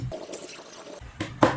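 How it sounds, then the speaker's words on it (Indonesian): Tap water is poured over mung beans in a container, giving short splashy pours that swell, pause and return with a louder gush at the end. "kita siram dulu dengan air ledeng"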